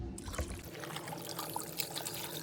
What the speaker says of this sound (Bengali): আর পায়াটা সিদ্ধ হওয়ার জন্য দিব এখন পানি